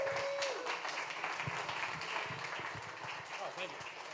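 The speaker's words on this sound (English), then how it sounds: "A giant round of applause." Audience at a hacker conference in a Brooklyn venue breaks into steady applause and scattered claps, moderately loud and filling the room, with a brief tone at the start and voices murmuring underneath.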